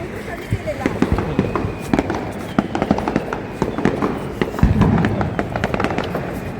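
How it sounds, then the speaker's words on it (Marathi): Firecrackers and fireworks pop and crackle repeatedly at an uneven rhythm along Worli Sea Face in Mumbai, some sharp and close, others more distant, with a voice talking over them. "या अंबानीच्या बंगल्यासमोर बघ किती फटाके लावतात"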